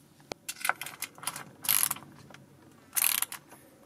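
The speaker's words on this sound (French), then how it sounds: "Je vais continuer avec la clé à cliquet 3 en 1." A Lidl Powerfix 3-in-1 ratchet wrench clicks in short bursts of rapid ratcheting, with louder, brighter runs of clicks in between, close up and alone with no voices.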